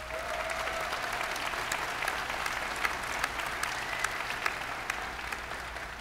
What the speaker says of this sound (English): and I think that's worth a round of applause